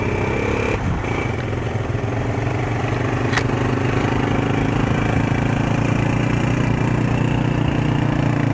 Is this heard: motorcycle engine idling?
yes